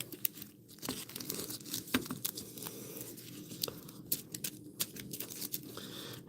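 Quick crisp riffling and papery flicks as a deck of Harry Potter trading cards is shuffled, a few sharp snaps among steady rustling, close and moderately quiet with no voices.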